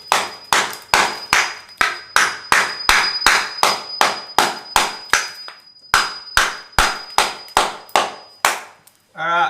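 Hammer strikes on a chisel pry up glued-down floor tiles, loud sharp metallic blows landing close by in a steady rhythm of about twenty hits with one brief pause partway through.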